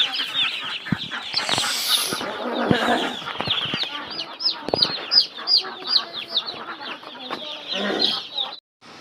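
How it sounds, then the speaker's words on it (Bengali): A crowd of young chicken chicks peeps nonstop at close range, dense overlapping high chirps with a few louder cheeps and brief rustling. "আমাদের মুরগি বাচ্চা চলে এসে কাছে নিয়ে দেখো"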